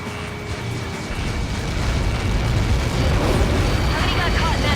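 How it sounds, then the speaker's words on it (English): A massive explosion in the video game Ace Combat 7 rumbles in a loud, sustained roar that swells slightly and keeps going for several seconds. "How many got caught in that explosion?"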